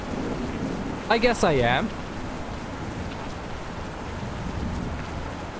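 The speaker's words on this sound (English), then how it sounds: "there is thunder and rain" Steady heavy rain hisses throughout a horror video game scene, a thunderstorm with a low background rumble, while a voice speaks briefly over it.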